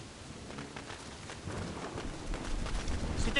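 Rain falling in the video game Assassin's Creed Black Flag: a soft, continuous wash of steady rainfall, faint and gradually swelling toward the end.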